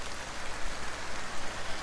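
Heavy rain pours down in a dense, continuous hiss of drops, steady and fairly loud throughout with slight swells, and no voices.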